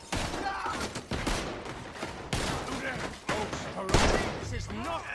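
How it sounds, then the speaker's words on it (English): Gunfire in Red Dead Redemption 2, a gunfight with repeated close shots bursting in bands across the clip, mixed with shouted in-game dialogue and talk throughout. "They're shooting right at me."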